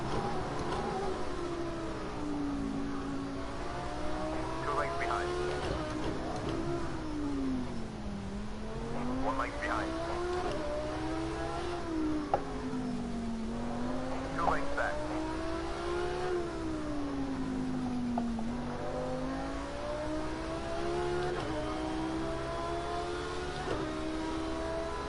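Racing car engines in Project Cars 2 during a GT3 online championship race at Long Beach rise and fall in pitch through repeated gear changes, a loud continuous whine with occasional tire squeal.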